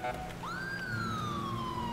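Police siren in GTA 5, a single rising wail that sweeps up and then slowly falls, sounding fairly close and steady over low rumbling game noise, with no speech.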